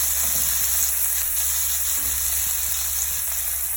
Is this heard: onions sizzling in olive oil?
yes